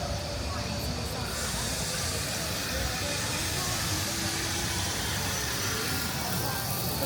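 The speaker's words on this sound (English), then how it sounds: "That sounds like something it's spraying." Water sprays hard on a dark, black-lit theme park ride at Animal Kingdom, Walt Disney World, a loud continuous hiss that runs throughout while riders talk faintly underneath.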